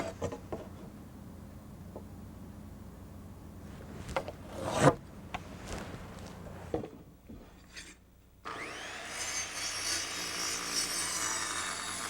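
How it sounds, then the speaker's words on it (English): A saw cuts notches into a wooden deck stair stringer, with scraping strokes and a brief sharp knock midway, then a louder, hissing stretch of steady cutting near the end. "when cutting the notches, I'm careful to saw on the waist side of the line"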